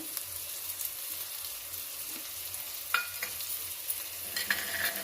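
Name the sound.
coriander added to frying pan, sizzling and stirring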